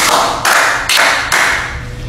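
Three sharp, loud claps ring out close by, evenly spaced about half a second apart, each with a short decaying tail.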